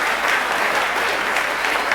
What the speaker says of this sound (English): applause, applause. More applause.